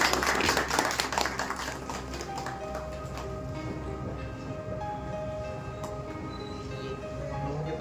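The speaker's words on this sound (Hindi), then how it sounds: "सर का सम्मान करते हुए एक बार जोरदार ताली बजाते हैं।" Audience clapping loudly at a Bhojpuri artists' event in honour of a chief guest, a senior district official, dense clapping at first that thins into scattered taps while background noise continues.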